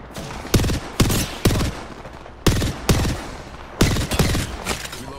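Bursts of automatic gunfire in a video game, short rapid volleys coming in three separate clusters with quieter gaps between, loud and close, no talking.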